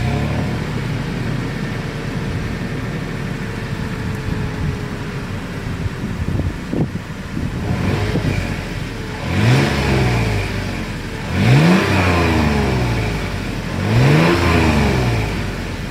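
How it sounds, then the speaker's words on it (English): Exhaust of a 2020 Toyota 4Runner Nightshade edition, with three loud revs blipped in succession after a low steady idle, heard close up outdoors with some wind noise. "As always, here is that exhaust clip."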